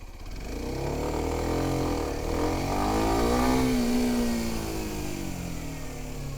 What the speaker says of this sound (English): let the clutch out until the bike starts moving forward, hold it there, gas, and let the clutch out all the way